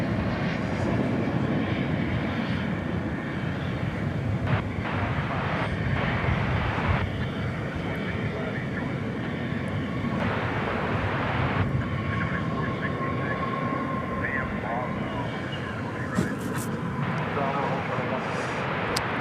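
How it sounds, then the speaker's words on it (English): A steady, broad jet roar from an Airbus A321 at DFW airport at night persists throughout at a constant moderate level, with a person talking over it. "flight 1716 Airbus A321 was that aircraft."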